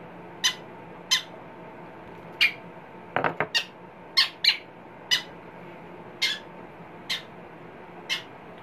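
A pet bird gives about a dozen sharp, loud squawks at a steady, spaced rhythm during hand-feeding, with a short burst of clattering knocks midway.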